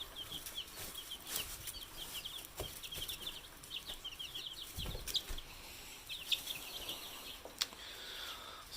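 Black and silver chickens on a farm cluck and chatter in a steady, busy stream of short calls, with occasional wing flaps and a few louder squawks in an outdoor pen.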